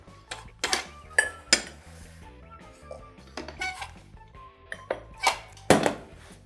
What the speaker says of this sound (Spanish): Voy a poner la sartén que se caliente.